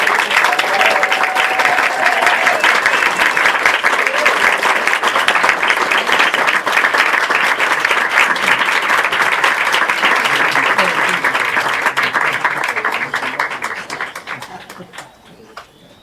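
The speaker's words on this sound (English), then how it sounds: "applause for American Solitaire" A theatre crowd at the New York City premiere screening of American Solitaire applauds in a dense, sustained roar of clapping that holds steady for over ten seconds before tapering off, with faint voices underneath.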